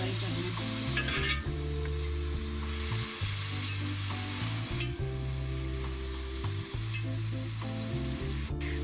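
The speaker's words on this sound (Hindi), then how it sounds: "आपने दरमियानी आंच पे फ्राई करना है।" Onions sizzle steadily in a pan over medium heat while cooking for a Pakistani capsicum chicken dish, a constant close frying hiss with occasional stirring scrapes under background music and no talk.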